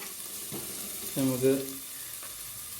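Onions fry in a pan with a low, steady sizzle that stays faint and constant, while a voice speaks briefly over it.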